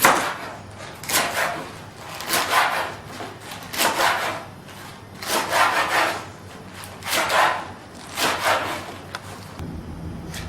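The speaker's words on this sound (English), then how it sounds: "You take off the first little piece and then just chop it to whatever size you wish." Chard (acelga) being chopped on a chopping board by knife, a series of steady rhythmic scraping cuts in repeated bursts, close and fairly loud with no talk.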